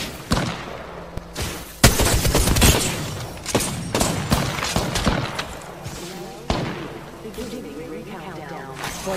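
Gunfire crackles in the Apex Legends battle royale shooter, with loud, close bursts and single sharp shots hitting in irregular clusters over a busy mix of game effects, and a voice speaking in places.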